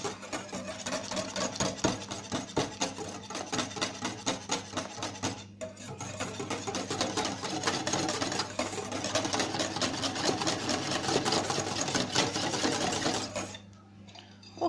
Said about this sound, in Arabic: نستمر في الخليط في الخلط.